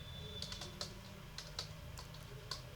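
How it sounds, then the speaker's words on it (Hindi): Keys on a computer keyboard being typed to enter an email ID at a sign-in prompt: a scattered run of light, quick clicks, fairly faint, over a steady low hum. "यहाँ पर हम अपनी ईमेल आईडी टाइप कर देते हैं जो भी थी"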